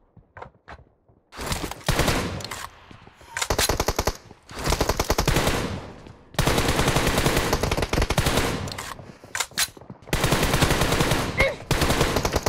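Automatic and rapid gunfire from the mobile battle-royale game PUBG Mobile, loud bursts of machine-gun fire broken by short pauses, with a few single shots near the start.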